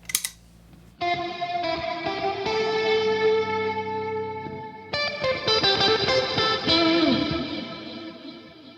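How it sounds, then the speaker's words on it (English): Electric guitar chords through a Soft Focus reverb pedal, ringing out with a lush, shimmering wash of modulated reverb and echo, sustained and fairly loud, restruck about halfway through. "Sounds like a mixture of a chorus, reverb, and a delay."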